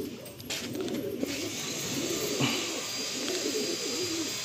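Young pigeons, a pair for sale as breeders, cooing in a steady throaty rolling murmur that goes on throughout, close and moderately loud, with a faint background hiss.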